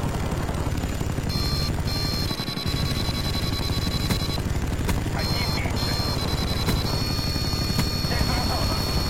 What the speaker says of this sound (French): U-Wing paré à décoller.